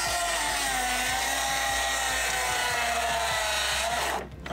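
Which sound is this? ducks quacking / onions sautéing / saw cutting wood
saw cutting wood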